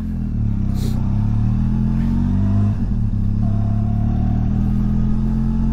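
Benelli TRK 502 X 2023 adventure motorcycle engine heard while riding and braking, a close steady low drone with shifting revs and a faint clatter, no voices.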